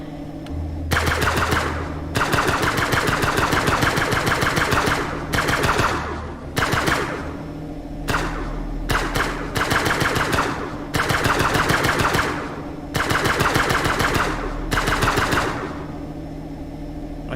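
Automatic gunfire in the space survival game Breathedge rattles loudly in repeated long bursts separated by short gaps, a low hum running beneath.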